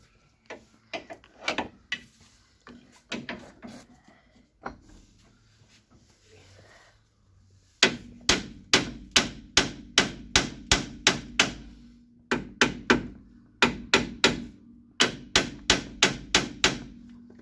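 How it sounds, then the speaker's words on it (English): A copper hammer strikes metal in sharp, ringing blows while freeing a part on a Mk3 Ford Escort estate, scattered at first, then a long run of steady, rapid hits close by. "a bit of gentle persuasion with a copper hammer"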